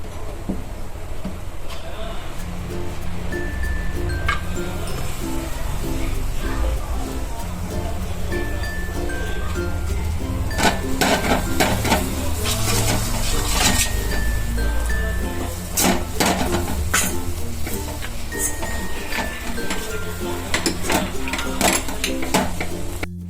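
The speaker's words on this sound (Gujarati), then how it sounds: "કાજુ બદામ પિસ્તા એટલે એ બધું ઘીમાં સોસરાઈ છે હવે આપણે નાખી દઈશું ગોળ" Jaggery is stirred into cashews, almonds and pistachios frying in ghee for an ukadi modak filling, with a constant loud cooking hiss and repeated spoon clinks and scrapes against the pan.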